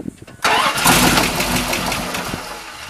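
A 1978 Dodge Warlock's engine cranking after a brief quiet start, a loud sustained starter-driven churn running close and continuous for a few seconds.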